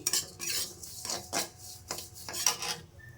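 Vermicelli is fried in ghee in a wok, with a series of rough, rasping scrapes as a spatula stirs it against the pan. The scrapes come in irregular bursts over a faint background.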